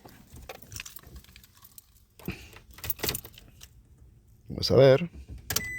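Keys jangle, then a cold 2005 Toyota Tacoma with a cylinder 1 misfire is started, giving a short loud burst near the end. People talk before the start.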